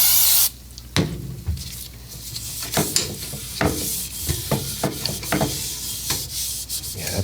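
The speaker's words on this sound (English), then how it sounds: "All right, now we can get some brake clean on there." Brake cleaner hisses from an aerosol can onto a snowblower part in a workshop, several short bursts of spray mixed with rubbing and wiping sounds, close and fairly loud.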